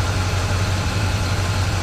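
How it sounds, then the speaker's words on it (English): A 1972 Pontiac 350 HO V8 idling in a 1974 body, needing a new harmonic balancer; a steady, loud low rumble with an even pulsing beat, close up and alone. "The engine itself is a 72 Pontiac"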